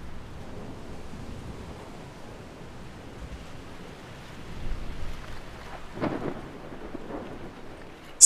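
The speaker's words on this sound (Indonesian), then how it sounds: "Petir tak henti datang dan saling bersahutan." A thunderstorm with low, rolling thunder and steady rain hisses on, faint and distant, with a few louder rumbles swelling midway through and no voices.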